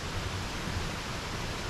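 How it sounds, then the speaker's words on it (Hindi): A steady, even rush of falling water fills an indoor rainforest room in Sydney, broad and hissing from an artificial waterfall, continuous without any change. "झरने की आवाज़ है."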